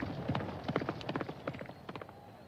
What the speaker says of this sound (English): That horse isn't out of the race quite yet.